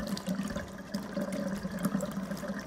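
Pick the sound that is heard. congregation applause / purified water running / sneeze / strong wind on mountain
purified water running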